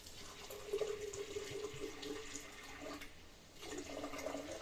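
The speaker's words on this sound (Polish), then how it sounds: "Wlewamy wodę gazowaną śnieżny stój." Sparkling water is poured steadily, making a soft, fairly quiet splashing and fizzing stream. There is a short lull partway through before the pouring resumes.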